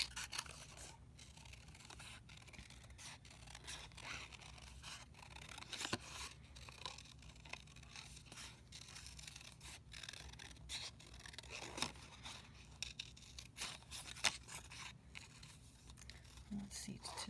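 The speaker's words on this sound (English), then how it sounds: "We're going to cut the image out." Scissors snipping around a stamped paper image for a handmade card, faint repeated cuts and paper rustles spread through a long stretch, quiet and close under low background noise.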